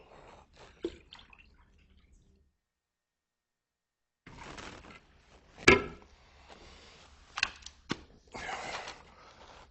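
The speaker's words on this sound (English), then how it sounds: "maybe add some more water" Water is poured into a laboratory cylinder in short bursts of splashing and trickling, separated by quiet pauses and a few sharp clinks of glass, heard close up with no voices.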